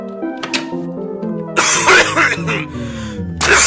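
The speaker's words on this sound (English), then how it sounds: "That was a horrific one. Another horrific cough." Harsh, violent coughing bursts close to the microphone, a strong burst in the middle and another at the end, over a soft tonal background.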